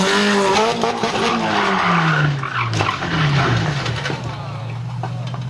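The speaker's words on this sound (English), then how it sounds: "This drifter hits the side of a curb, ripping off both rear ends of his tires." A drifting car skids and strikes a curb, tires squealing loudly with a descending engine tone and a sharp knock partway through, then the engine settles into a lower drone.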